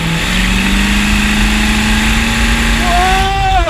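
Homebuilt custom motorbike powered by a Chevy V8 engine, revving loudly and steadily throughout at close range, with a rising pitch sweep near the end as the throttle opens.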